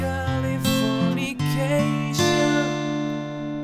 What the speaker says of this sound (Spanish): Llegamos al puente, que suena así.